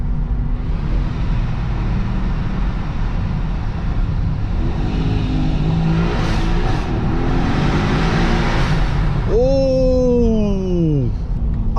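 Mercedes-Maybach GLS 900 Brabus Rocket engine accelerating inside a tunnel, a steady loud roar heard from the cabin that builds with a rising whine and a sweeping tone near the end.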